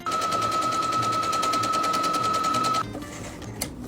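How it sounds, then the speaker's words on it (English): Sewing machine stitching along a folded, pinned scarf, giving a fast, steady rapid-fire rattle of needle strokes for nearly three seconds before stopping abruptly, followed by a brief quiet click. "I folded it in half and pinned it, and I'm going to sew along these little clips here."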